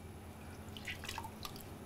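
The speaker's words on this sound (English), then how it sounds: "As I force them both into the water and bring them out again, the untreated is absolutely sopping wet" Faint drips fall from a soaked, untreated tissue paper just lifted out of water, a few soft patters close by over a quiet background.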